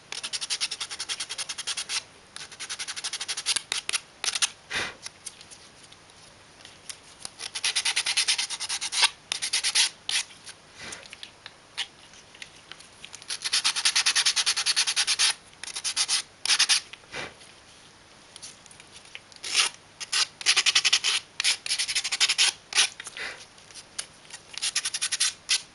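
Sandpaper rubbing off leftover tabs on a model gear box base, a close, dry scratchy rasp in repeated strokes and bursts with brief pauses between them.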